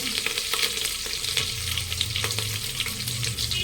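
Green chilies and curry leaves sizzle and crackle steadily in hot oil for an aubergine curry, a loud, dense frying hiss with occasional spoon stirring, close by and without speech.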